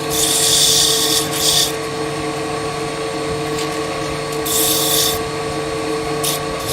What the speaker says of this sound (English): Little sanding there.